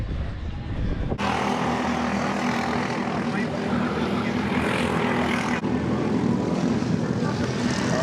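Shifter kart engines at the New Castle Motorsports Park race track, a loud continuous buzzing two-stroke drone that rises and falls as karts pass nearby, with a voice talking over it.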